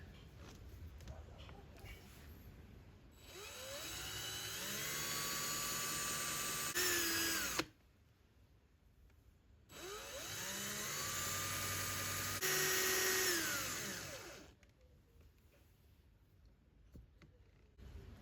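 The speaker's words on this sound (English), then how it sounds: "Stick them in your drilling machine, a little bit of polish, get them looking like new again." A drilling machine whirs in two long sustained bursts with a brief pause between, steady and loud, the pitch shifting slightly as it polishes steel bicycle bolts.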